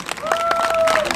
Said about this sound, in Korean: 우리 힘찬 박수 한번 주십시오